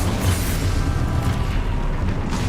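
Confringo blasting spell exploding in Hogwarts Legacy, a dense rumbling boom that stays loud and sustained through the short stretch with no speech.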